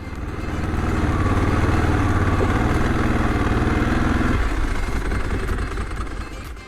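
A Ducati 749 IE motorcycle engine idles close by with a loud, steady, throbbing rumble that drops in intensity partway through and continues alone.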